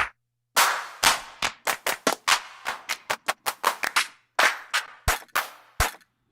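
Sampled drum-machine claps from Clap Bank 1 in the Loop Track Drum Rompler plugin, played one after another as sharp, dry, isolated hits with short gaps, some with brief tails, loud and alone.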